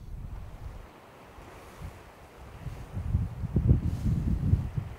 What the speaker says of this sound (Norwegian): Vinden løyer litt.